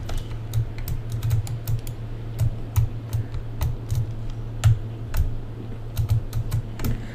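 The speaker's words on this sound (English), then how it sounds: "The keyboard seems like the best one, but I know it can be kind of annoying to hear the, clicky-clicky all the time" Computer keyboard keys clatter in quick, irregular bursts of crisp clicks over a steady low electrical hum, close and fairly loud.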